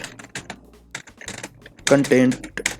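Rapid computer keyboard typing clatters close by in an irregular burst, with someone talking over part of it as he enters text while setting up a Facebook page.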